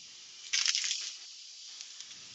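Spray paint from an aerosol can hisses in a short burst of about half a second at a spray bench, then fades, followed by faint small clicks.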